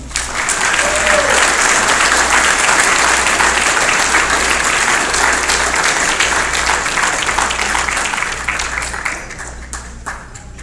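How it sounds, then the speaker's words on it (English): Warm, sustained audience applause at a 2021 fundraiser, loud and continuous from a full room, tapering slightly toward the end. "Please join me in giving a round of applause to Michelle Barone"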